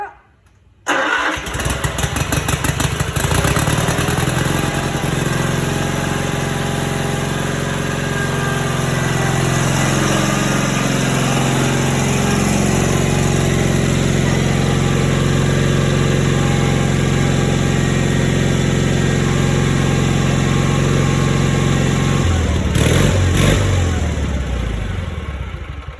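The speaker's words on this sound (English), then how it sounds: "Turn the gas on, start her up." A Cub Cadet 782 lawn tractor engine under restoration cranks and catches after a short pause, then runs steadily at a loud, rumbling idle for the rest of the time, with a slight change in tone near the end.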